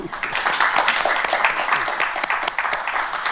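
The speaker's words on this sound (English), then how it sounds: "Please join me in giving a warm thank you, round of applause to our panelists today." A room full of people applauds panelists at a conference on Africa's economic future, a dense, continuous wash of clapping at steady volume throughout.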